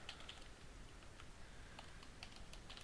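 Rapid, light keystrokes on a computer keyboard while writing Caesar cipher code, with quiet irregular clicks over steady background hiss, no talk.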